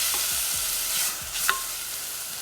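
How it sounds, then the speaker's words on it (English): Chopped kimchi is stirred into a bubbling pot of spicy Korean tofu soup, making a soft, steady sizzle with a few scraping stirs and a faint clink, fairly quiet and with no talking. "So I'm also gonna add all the kimchi that I chopped."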